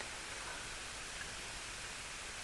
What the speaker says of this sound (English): listening, and there's the rain.